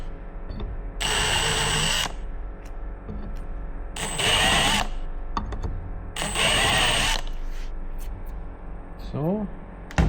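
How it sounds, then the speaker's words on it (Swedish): A drill with a countersink bit deburring screw holes in metal, three bursts of whirring and grinding, each a second or so long, with short pauses between them. "Ska jag grada av hålen på den här sidan också"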